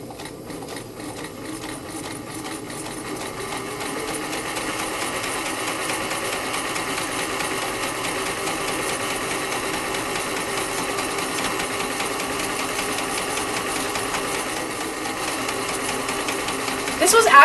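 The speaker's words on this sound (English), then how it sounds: "I get to use my sewing machine." A sewing machine hums and whirs steadily as it stitches, a continuous mechanical buzz up close that rises slightly at the end.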